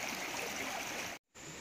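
A hill stream near Srikalahasti flows in a steady, continuous rush of running water, close and even, with a brief dropout before resuming.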